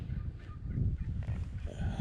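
Wild turkeys in a field give faint, scattered calls and clucks from a distance against low background rumble, with no talking.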